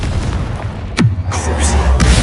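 An explosion spell goes off in the video game Hogwarts Legacy, a loud booming burst with a sweeping blast midway, surrounded by rumbling battle noise.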